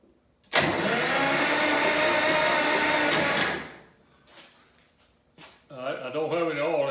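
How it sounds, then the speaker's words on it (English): A stuck tractor engine with no oil in it cranks over on its starter in a loud, steady, close whir lasting about three seconds, then stops and someone talks. "I can turn it over with the starter"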